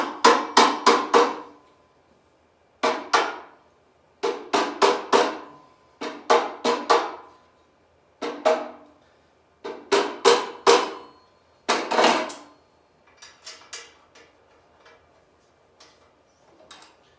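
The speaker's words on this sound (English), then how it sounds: "So I'm going to use a mallet with a wooden end. I'm just going to tap the back down." Wooden-ended mallet tapping a steel subframe into place on a 1989-2004 Kawasaki KX500, heard as clusters of two to four sharp knocks separated by short pauses, close and clear, fading to lighter taps at the end.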